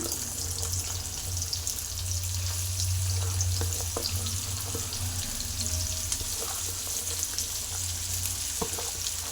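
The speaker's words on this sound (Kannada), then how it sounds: "ಎಣ್ಣೆ ಬಿಸಿ ಆಗ್ತಾ ಇದೆ ಅಲ್ವಾ, ಕಟ್ ಮಾಡಿರುವಂಥ ಈರುಳ್ಳಿ ಹಾಕ್ಕೋತೀನಿ" Sliced onions frying in hot oil in a pan for egg puffs, a continuous soft sizzle with occasional light clicks and stirring touches under a low background hum, no one speaking.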